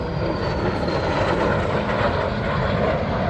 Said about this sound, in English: Extremely rare to see these two airplanes.